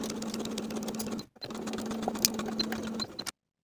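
A sewing machine edge stitches the lining of a vest in a steady, even hum, stopping briefly partway through and then running on before ending abruptly.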